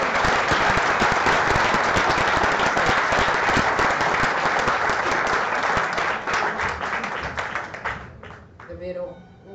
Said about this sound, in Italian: Davvero un applauso meritato